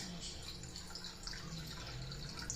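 Tap water runs steadily into a tea kettle, a continuous splashing fill heard fairly close and at low volume, with no speech over it.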